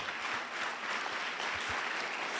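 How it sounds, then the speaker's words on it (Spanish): A church congregation applauding during a sermon, dense continuous clapping from many hands that stays loud and even throughout. "dale ese aplauso al Señor"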